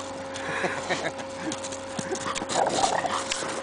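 An excited dog romps through snow, with scattered quick thumps, snuffles and panting close by, continuous rustling and scuffing with no talking.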